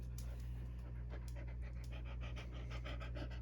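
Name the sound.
dog panting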